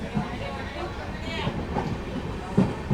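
The Vijayapura–Hubballi passenger train rolls on with a steady rumble and rattle from inside a coach, with faint clicks and a few knocks over a busy carriage background.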